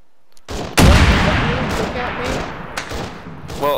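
Video game combat as a frag grenade is thrown, with a sudden heavy boom followed by a loud rumbling tail and scattered gunfire cracks, with voices faintly underneath.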